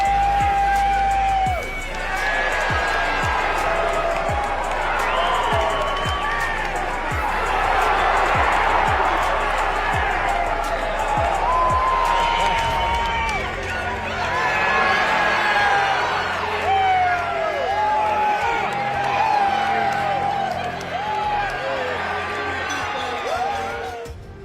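A boxing arena crowd roars and cheers during a fight, loud sustained cheering with whoops and scattered clapping, a commentator's voice running over the top as the noise swells and eases.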